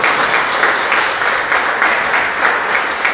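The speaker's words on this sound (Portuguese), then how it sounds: "Salve de palmas para o Senhor" A church congregation claps together in a loud, sustained, even wash of applause that runs without a break.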